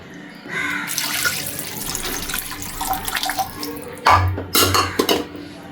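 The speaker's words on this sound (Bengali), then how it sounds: "এবার দিয়ে দিব হচ্ছে পরিমাণ মতো পানি।" Water is poured into a cooking pot holding potatoes and fish, with a splashing, gurgling stream that comes in bursts, close and fairly loud, alongside a few clinks of the pot.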